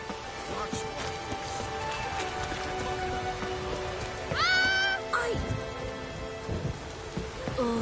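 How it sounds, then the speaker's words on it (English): Steady rain falling in a dim, stormy setting, a continuous close patter and hiss throughout, with sharp tonal calls and voices breaking in over it partway through. "Oh, raining again."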